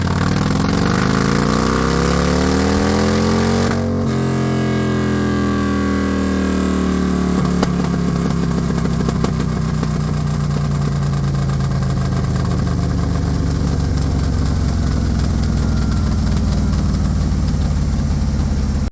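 A Gen 2 Harley-Davidson M8 motorcycle engine roars on a dyno during tuning runs, revving up through sweeping pitch rises, dropping back to a lumpy idle, then climbing again in a steady loud drone with no talk.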